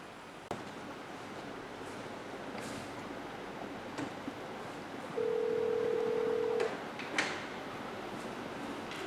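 Telephone line during a call transfer to an office marketing staff member: a steady single-pitch tone held for about a second and a half, with faint clicks and soft handling knocks around it.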